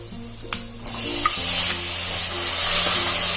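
Onion and tomato hit a hot pan and burst into a loud, close hiss of frying that settles into a steady sizzle, with a few utensil knocks at the start and no voices.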